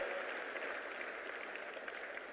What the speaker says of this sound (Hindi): एक बार जोरदार तालियों से उनका स्वागत और अभिनंदन।